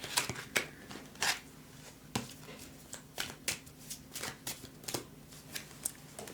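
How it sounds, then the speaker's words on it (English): A deck of playing cards being shuffled up close, a string of sharp riffling bursts and soft slaps repeating unevenly over a quiet room, with no talking. "So I'm going to shuffle, and you think about it."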